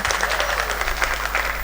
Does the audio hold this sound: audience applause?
yes